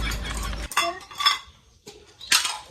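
Dishes and utensils clink and clatter close by during hand washing, in several short bursts.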